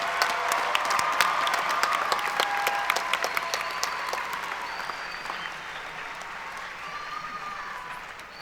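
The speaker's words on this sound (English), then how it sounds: "we have one more round of applause for all of the new doctoral students" A large crowd at a spring university commencement applauds for new doctoral and master's graduates, the dense clapping steady at first and then slowly fading.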